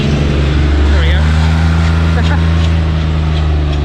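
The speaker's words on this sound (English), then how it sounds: "oh, there's a car coming, hang on" Two cars drive past on a quiet country road through a Lincolnshire village, a steady low engine and tyre rumble holding loud and close throughout, with a voice talking over it.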